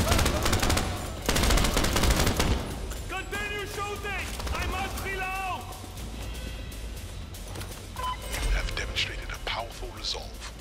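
Rapid gunfire in the crime game Crime Boss: Rockay City, loud chattering bursts up front and then scattered shots under chirping, whooping in-game effects, with a voice speaking over the action.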